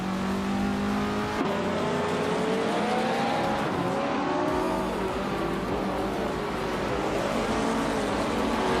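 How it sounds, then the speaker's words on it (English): Race cars in a video game, including a 1966 McLaren M1B, running on track: a continuous loud engine drone with shifting pitch as cars accelerate, layered motors and steady roar, no voices. "Amy is in 3rd place with a 1966 McLaren M1B"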